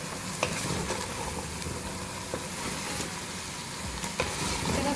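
Washed cabbage, about a kilo, being mixed with meat in a cooking pot, a steady sizzling hiss broken by a few sharp scrapes and clanks of stirring, fairly close, no talking.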